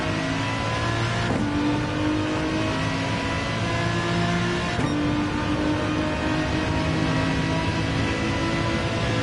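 Race car engine in Gran Turismo 7 on the Suzuka circuit, roaring steadily and loudly throughout, with two sharp rising rev pulls as gears change, heard alone without talk.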